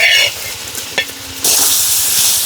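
Fried fish goes into a pan of sizzling masala cooked with onion, garlic, cumin, turmeric and chili, with a close sizzle, a brief scrape and clunk, then a louder, sustained hiss as the fish hits the pan.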